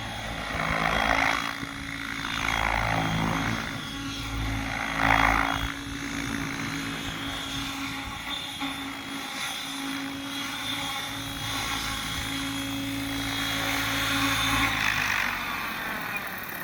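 A nitro-powered RC model helicopter flies at an outdoor model helicopter fly-in, its engine and rotor a steady buzzing whine, rising and falling slightly as it moves, continuous throughout at moderate distance.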